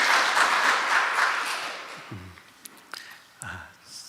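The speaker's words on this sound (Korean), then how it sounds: "여러분 다시 한번 박수를 쳐주시면" A church congregation at a Sunday worship service claps in a full burst of applause that fades out over two seconds, followed by a few sparse claps and someone speaking briefly.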